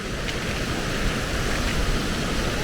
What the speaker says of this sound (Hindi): स्वागत है एक और झरने में